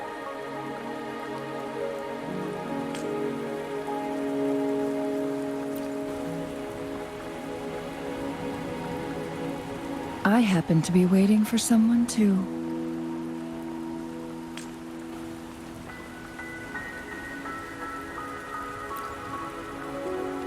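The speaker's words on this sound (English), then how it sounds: "Are you trapped here by the rain?" Steady rain falls throughout a scene in the video game Wuthering Waves, a soft continuous patter under a bed of musical tones, with a character speaking briefly in the middle.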